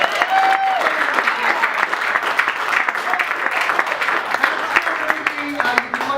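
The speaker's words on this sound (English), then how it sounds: "Can you give a round of applause to all the Fringe staff?" Applause and scattered cheers break out for the festival staff at an improv film festival night at a Fringe festival, close, dense clapping with whoops rising over it throughout.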